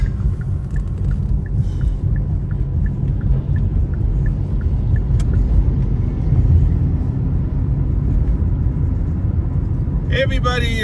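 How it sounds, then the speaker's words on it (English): Big trucks rolling past on a road where potholes are being repaired on a day with melting snow, a steady heavy low rumble filling the whole stretch, close and loud from inside a moving vehicle. "Big old trucks."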